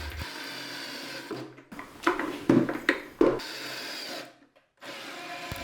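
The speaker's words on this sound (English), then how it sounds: "The screwing of the first part goes without any problems." A power drill drives screws into wood, whirring in several bursts of a few seconds each, with brief pauses and a short silent gap between runs, fairly close and loud.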